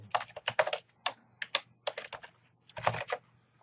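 An email address being typed on a computer keyboard in quick, uneven bursts of crisp, close keystrokes with short pauses between clusters, clear and alone.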